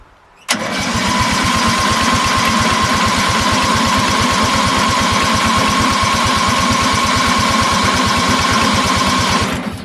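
An engine catches and starts after its fuel system is primed and the choke is turned off, then runs steadily and loudly with an even, rapid firing pulse for nearly ten seconds. No voices are heard.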